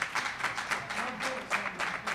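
A crowd at a Minneapolis mayoral debate forum claps in a moderate, somewhat distant round of applause with uneven pulses of hand claps.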